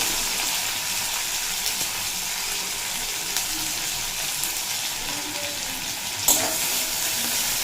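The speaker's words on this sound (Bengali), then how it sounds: "এরপর ওই তেলের মধ্যে দিয়ে দেব জিরি করে কুচিয়ে রাখা পেঁয়াজ" Chopped onions sizzle steadily in hot oil in a pan, a bright continuous frying hiss with faint stirring and a small clink near the end.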